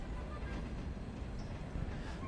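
Railroader game train, a steady low rumbling drone with a faint hiss on top, even in loudness, with talk faintly present.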